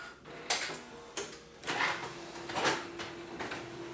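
An Epson WF-C8690 office printer feeds a single sheet, giving a few separate mechanical clunks and brief whirring pulls spaced across a few seconds, close by and moderately loud.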